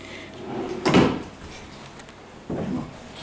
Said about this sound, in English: Let's see what's in this drawer.